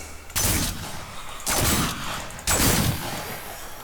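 Three loud shotgun blasts in the survival game Fragmented, fired at roughly one-second intervals, each a sharp boom with a short noisy tail.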